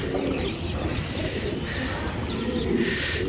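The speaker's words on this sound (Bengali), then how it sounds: "আলহামদুলিল্লাহ কবুতরগুলি চলে আসছে।" Racing pigeons coo and flutter close by as they arrive at their loft, over a steady rushing background, with a few higher chirps mixed in.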